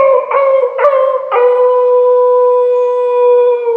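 A man imitates a dog yelping after being hit by a stone, giving two or three quick sharp yelps that break into one long, sustained, wavering howl, loud and close.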